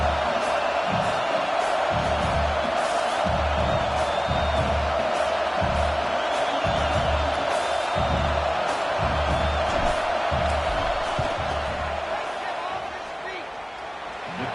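A football stadium crowd roars continuously before a field goal kick, a dense, loud wash of cheering and noise with rhythmic thumping underneath that eases slightly near the end.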